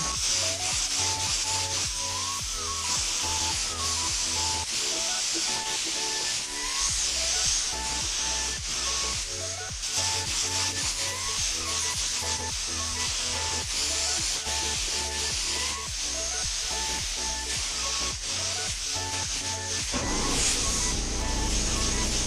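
A spray gun hisses steadily while painting parts for a 1985 C4 Corvette in a ventilated home garage, a loud, continuous close rushing noise with a faint rhythmic mechanical pulse underneath and no talk.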